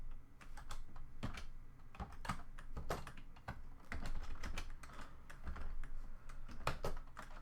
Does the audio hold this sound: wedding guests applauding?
no